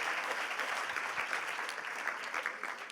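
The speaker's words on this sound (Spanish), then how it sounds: "Den un aplauso a Cristo" A church congregation claps during a Christian sermon, a soft, dense wash of applause holding steady for three seconds, slightly distant and fading toward the end.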